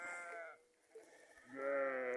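Sheep bleating on a farm where ewes are lambing, two drawn-out bleats, one at the start and a louder, nearer one near the end, with a quieter gap between them.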